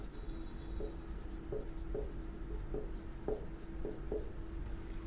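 A pen writes numbers on paper in a commerce accounts problem, short rhythmic scratchy strokes repeating every half second or so, close but quiet over a steady low hum.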